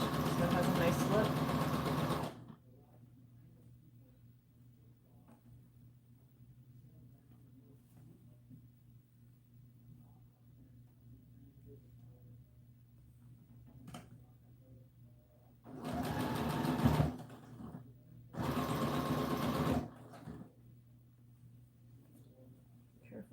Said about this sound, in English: We're just sewing along the edge, right?